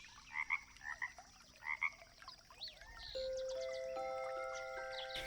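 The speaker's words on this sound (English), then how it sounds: "Mr. Frog, he lets out a deep ribbit of" A frog croaks three times in quick, close, moderately loud pulses, then gives way to soft chiming, tinkling notes in a quiet night setting by a creek.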